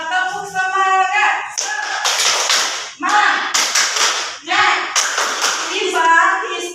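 A classroom does a rhythmic group clapping cheer, the tepuk semangat, in bursts of sharp patterned claps and slaps that alternate with voices chanting and talking, all close and loud.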